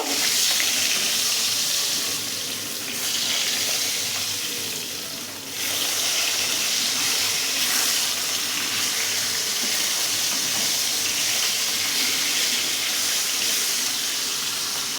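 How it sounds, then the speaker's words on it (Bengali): Fish frying in oil in a pan while Bengali fish curry is made, giving a loud, steady, hissing sizzle that runs unbroken for the whole stretch with only a brief dip midway and no talking. "মাছগুলো দিয়ে ভেজে নেবো এপিট ওপিট করে মাছগুলোকে খুব ভালো করে ভাজবো"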